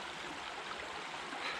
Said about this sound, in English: So I'm going to fill the bag up with the water.